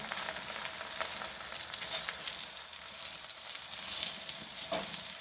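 A paratha frying in ghee on a hot pan after being flipped to cook the other side, giving a steady, close, crackling sizzle that runs throughout.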